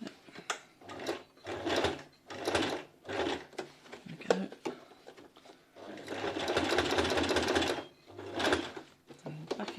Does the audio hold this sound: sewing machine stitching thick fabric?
yes